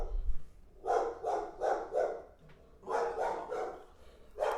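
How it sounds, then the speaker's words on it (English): Pet dogs bark indoors in two quick rhythmic bursts of several loud, close barks each, with a brief pause between the runs and no talk over them. "Let me see what my dogs are barking at."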